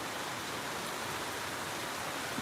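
Steady, dense rain falling in Aklan province in the Philippines, a continuous even hiss close by with no voices.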